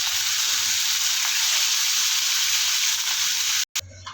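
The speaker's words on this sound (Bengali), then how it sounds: "মাছটা ভাজার জন্য এখানে আমি চাটুই বসিয়ে দিয়েছি, তেল দিয়ে দেবো।" Fish frying in hot oil on a flat griddle pan gives a steady, loud, dense sizzle that runs continuously, broken by a brief dropout near the end before resuming.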